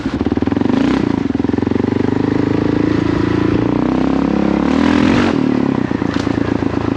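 A Kawasaki KLR650 single-cylinder motorcycle engine drones loud and close during a hill climb, holding a steady revving roar for the whole stretch with slight rises and dips in pitch.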